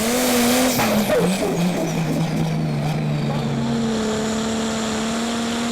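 A Prostock pulling tractor makes its run down a tractor pulling track in Brande, Denmark, a loud sustained engine roar that falls in pitch as it pulls away and keeps droning steadily.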